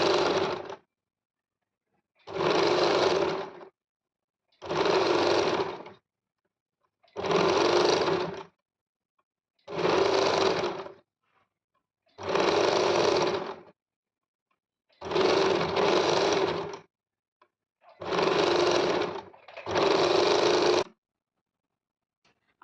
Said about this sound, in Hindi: मैं हेमिंग नहीं करूँगी, इसलिए मैं इसको स्टिच कर लेती हूँ।